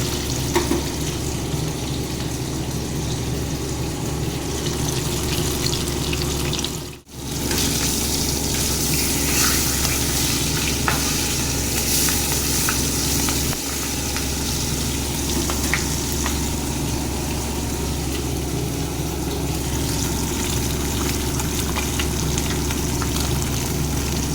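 Katla fish pieces frying in hot oil, a loud, dense, continuous sizzle and crackle that dips for a moment before roaring steadily on.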